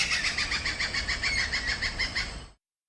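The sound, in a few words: person imitating a stork-billed kingfisher call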